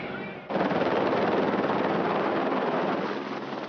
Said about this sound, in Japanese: ヘリコプターでの登場と退場です。